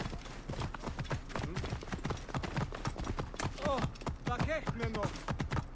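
Horse hooves clip-clopping at a steady gallop in Assassin's Creed Origins, a fast rhythmic patter running throughout, mixed with game music and sound effects beneath a voice talking.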